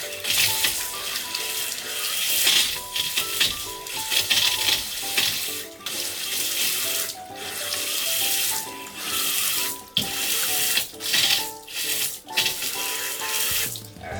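Water gushes loudly and steadily from a newly installed corner lavatory sink faucet with its aerator removed to purge air, splashing into the basin with shifting splatters and occasional metallic clinks.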